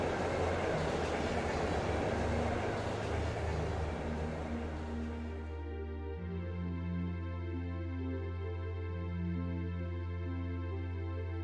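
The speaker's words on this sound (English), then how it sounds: "It's the train! I love that train." Train from the video game Trails of Cold Steel running steadily, a broad rumbling roar for the first half that settles into a smoother, tonal hum with a sustained low drone and layered engine tones, loud and continuous throughout with no talk.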